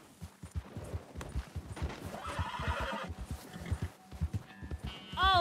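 Horse hooves clip-clop in a steady trotting rhythm inside the video game Red Dead Redemption 2, with whinnies and neighs breaking over them, quiet overall and ending in a brief louder tonal swell.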